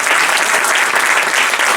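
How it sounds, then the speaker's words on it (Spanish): A church congregation applauds during a sermon, a loud, dense and even wash of clapping filling the room without pause. "Dale fuerte el aplauso al Señor."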